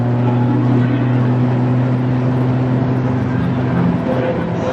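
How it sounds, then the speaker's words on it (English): A pack of VW Golf TDI race cars crossing the finish line at Silverstone GP, a loud, steady engine drone with a low hum running unbroken throughout. "As a swarm of Golfs comes over the line."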